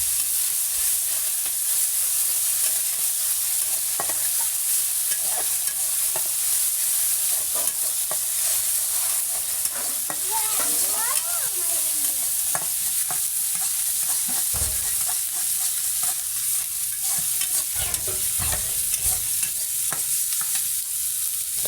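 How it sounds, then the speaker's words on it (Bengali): Ground spice paste fries in hot oil with cinnamon and whole cumin, a steady, dense sizzle running for about twenty seconds, punctuated by scattered stirring taps and scrapes. "মশলার তেলের ভিতরে দিয়ে একটু ভাজা ভাজা করে নেবো"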